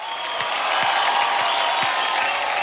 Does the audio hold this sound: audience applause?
yes